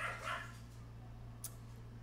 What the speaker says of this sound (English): Nano, please stop barking at the door.